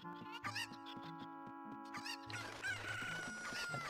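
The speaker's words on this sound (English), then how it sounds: "Grab the chickens and throw them." Cartoonish chicken clucks and squawks from Zelda: Ocarina of Time ring out in several short bursts over steady game music, with a brighter jingle near the end.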